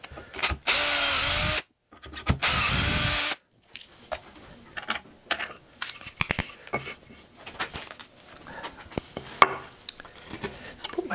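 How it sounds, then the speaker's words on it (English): Two loud, close bursts of a power drill boring dowel holes through a Dowelmax doweling jig, each about a second long with a brief pitch dip as the bit bites, followed by quieter handling clatter. "And I drill two holes."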